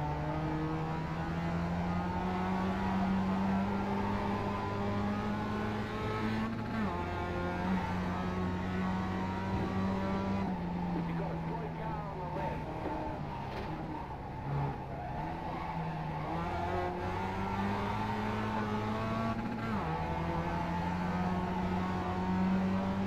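Mazda MX-5 race cars in iRacing on the Phoenix Road Course, a steady close engine drone that rises and falls in pitch through gear shifts, with tire squeal layered in and no talking.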